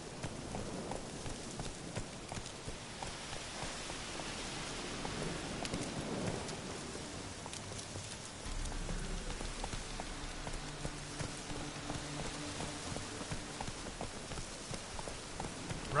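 Roach, a horse in The Witcher, gallops through rain, with a steady patter of rainfall and low rumbling under faint, continuous hoof clatter; the hooves blur into the wet ambience for much of the stretch rather than standing out.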